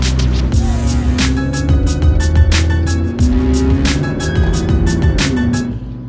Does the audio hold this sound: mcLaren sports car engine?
yes